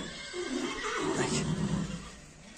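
A young horse, a colt offered for sale near Bishkek, neighs in a drawn-out, wavering whinny that carries loudly and close for most of the moment, then tapers off.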